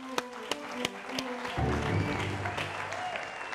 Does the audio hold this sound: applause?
yes